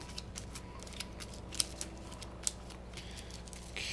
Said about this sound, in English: Let me shuffle these up super fast.